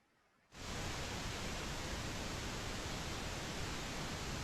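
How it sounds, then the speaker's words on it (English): Steady pink noise from a mixing console's onboard oscillator, fed straight into a channel, switches on abruptly after a brief quiet moment and holds a constant, full-band hiss to the end. "This is the onboard oscillator just bringing pink noise directly into a channel."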